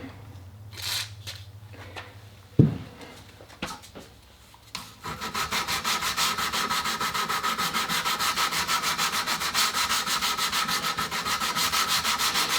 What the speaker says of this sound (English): we definitely want to get all those 100 grit sanding lines